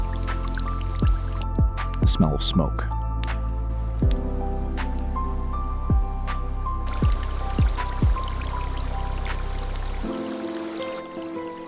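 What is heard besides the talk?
water dripping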